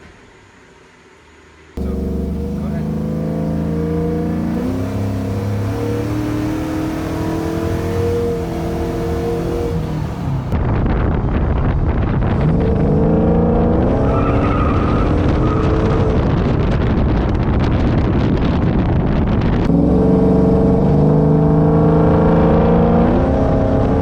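A car with a NOS wet shot nitrous system revs and accelerates hard, its loud engine climbing through gears with rising pitch sweeps and brief shifts, close and continuous over about twenty seconds.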